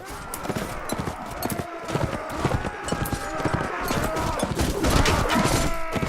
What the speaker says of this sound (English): Man, this horse can get up to a good movement speed.